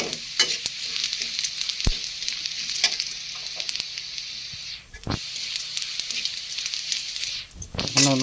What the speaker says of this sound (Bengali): আমি জিরাটা দিয়ে দিচ্ছি এটা গোটা জিরা